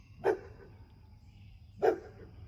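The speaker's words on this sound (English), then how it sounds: "What are you barking about?" A dog barks twice, about a second and a half apart, each bark short and fairly close, with quiet background in between.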